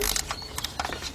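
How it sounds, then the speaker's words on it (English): A 3/8 drive ratchet with a 14mm deep socket tightening the crankshaft pulley bolt on a 2002-2005 Hyundai XG350, making a quick run of close, light mechanical clicks. "I got my 3/8 drive ratchet. And let's go in here, and now we can tighten up"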